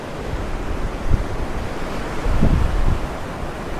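Surf washes steadily at a seaside tidal pool with shallow water, a broad continuous wash with soft swells rising around the middle, mixed with wind buffeting the microphone.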